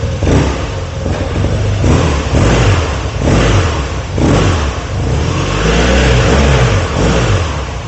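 A 2018 BMW R nineT Cafe Racer boxer engine with an Akrapovic exhaust, revved repeatedly while stationary, loud close throttle blips rising and falling in a regular rhythm.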